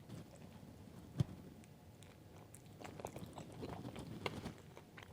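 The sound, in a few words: biting and chewing an everything bagel deviled egg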